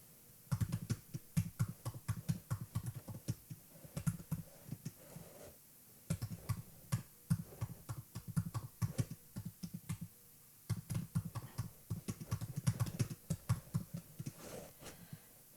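Fingers type on a computer keyboard in quick bursts of close, crisp key clicks, separated by brief pauses, quiet overall with no talking.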